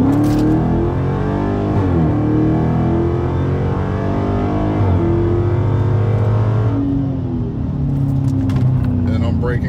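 A car fitted with Powerstop Z26 brakes and rotors accelerates with a rising engine drone, then slows as the pitch falls away. A voice talks over the steady, close engine noise.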